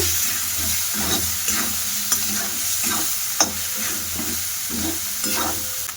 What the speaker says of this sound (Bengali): দিয়ে ওরা ভালো করে মাংসটা কষিয়ে নেব